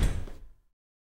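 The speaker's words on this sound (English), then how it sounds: "Don't slam the door." A door slams shut during a heated domestic argument, one loud close impact that rings out and decays quickly into silence.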